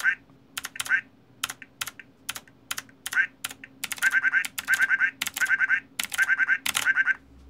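Keyboard keys rattle in quick bursts as a duck quack novelty keyboard plays a short quack with each repeated press, the quacks coming in rapid clusters of three or four over steady typing clatter.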